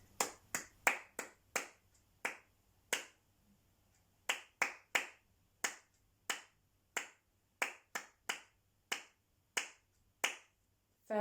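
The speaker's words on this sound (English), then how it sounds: "Let's just clap it." Sharp single claps, dry and close, beating out a rhythm in a music lesson, grouped in short patterns with brief pauses between phrases against a quiet background.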